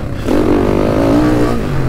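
A YCF dirt motorcycle engine revs up loud and close, climbing in pitch and holding a high, buzzy drone for over a second before easing off.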